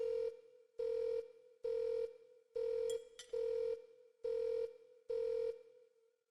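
A telephone rings seven times in an even rhythm, each steady electronic trill separated by short pauses, clear and alone.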